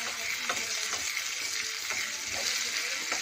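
Long-cut onions frying lightly in a pan for Marwadi-style kadhi pakora, a continuous close sizzle with soft stirring scrapes recurring about every half second.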